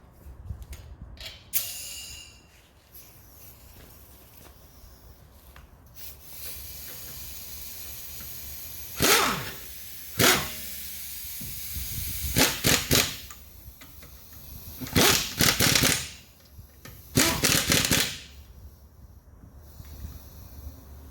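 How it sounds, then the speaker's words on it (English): Short bursts from an impact wrench set to its lowest setting tapping suspension bolts on a 2005-2010 Chrysler 300 or Dodge Charger, several loud rattling hits spaced a few seconds apart over quiet garage background. "I've got my impact on the lowest setting, so tapping them is not going to hurt anything"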